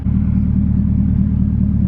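A car engine idles low and steady with a deep, even rumble while the car backs up slowly at a drag racing event.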